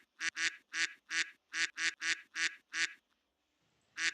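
A person imitates a duck with a run of eight loud, nasal quacks in quick, slightly uneven succession, close up. A short pause follows, then a ninth quack begins.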